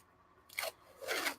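Painter's tape is pulled off the roll and applied up close in two quick, crackly tearing bursts separated by a short pause, loud and sharp against near silence.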